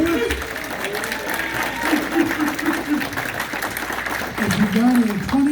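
An audience applauds for former football player Greg Pruitt at a Brownfest 2022 fan event, a steady spread of clapping under someone talking over a microphone.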